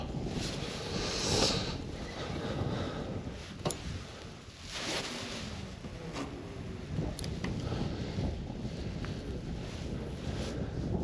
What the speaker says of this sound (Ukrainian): північний вітер такий крижаний